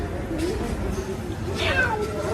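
A cat meows in a grandmother's home, giving one short, rising-then-falling call near the end, fairly close, over a noisy background where people are talking.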